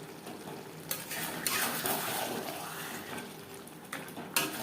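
Meat for Bengali kosha mangsho cooking over a high flame, a steady close sizzle and frying hiss with a few sharp scrapes and clinks of a utensil against the pot.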